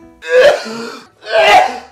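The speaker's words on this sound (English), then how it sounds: "uncovered coughing" Two loud, close, harsh coughs in a row, each a rough throaty burst lasting nearly a second.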